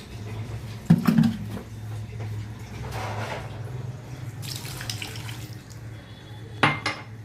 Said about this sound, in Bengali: আর এই 1 কাপই জল দেবো।